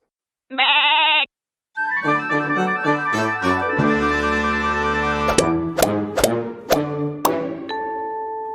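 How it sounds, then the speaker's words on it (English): A single goat bleat, loud and close, in a short wavering burst. Bright musical notes and chimes follow it, with no talking. "Goat."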